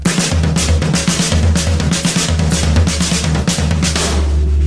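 A drummer plays a drum kit crossover pattern at a quicker tempo, right hand crossing over left, giving a dense, driving run of close drum and cymbal strikes over a sustained low rumble, with no talking.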